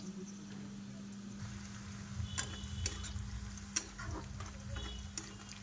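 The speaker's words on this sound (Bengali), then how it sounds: "ওদিকে পেঁয়াজটা ভাজা হোক" Onions frying in oil in a pan for chicken curry with potatoes, a soft steady sizzle under a low hum, with a few sharp clicks and taps from a utensil.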